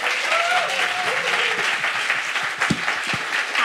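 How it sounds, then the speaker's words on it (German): Audience applause for Maike at a science slam in Freiburg, a dense steady wash of clapping from a crowd filling the whole stretch, with a faint voice briefly audible early on. "Ein riesen Applaus für die Maike, unser Opferlamm!"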